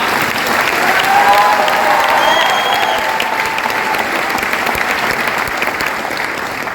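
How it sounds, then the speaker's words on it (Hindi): A seminar audience in a hall bursts into sustained, loud applause that holds steady for several seconds, with faint voices mixed in. "रोहित जी के लिए जोरदार तालियां।"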